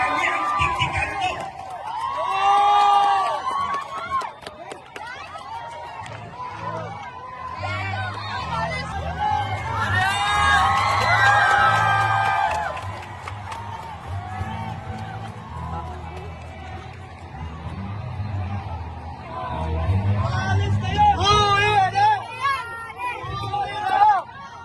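A protest crowd shouts and cheers in waves, dense babble of many voices with whoops and louder surges, people talking and calling out throughout at close range.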